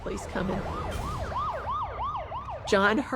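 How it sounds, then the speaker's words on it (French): Wailing police sirens rise and fall in a steady repeating pattern, sounding somewhat distant, with a sharper horn-like burst near the end over low traffic rumble. "j'ai entendu les sirènes de la police au loin."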